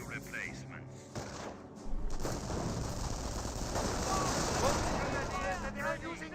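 MP40 submachine guns fire during an infantry push in Company of Heroes, rapid bursts crackling through a dense battlefield din of other weapons, with a voice talking over the action.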